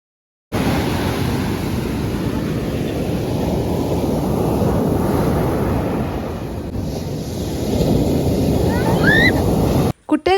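Sea surf rolls onto a beach at sunset, a steady loud wash of waves thickly mixed with wind buffeting the microphone, continuous for about nine seconds before cutting off abruptly.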